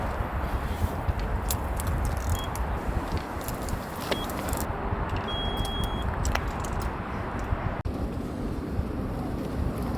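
A fishing bite alarm on a carp rod setup gives a few short, sharp electronic beeps against a constant, strong wind roar buffeting outdoors by the water.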